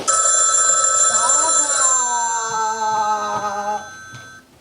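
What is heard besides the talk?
telephone ringing in a garage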